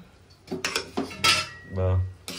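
Chicken biryani gets mixed in a metal pot, with a spoon clanking and scraping against the sides in several loud, close strokes, heard alone.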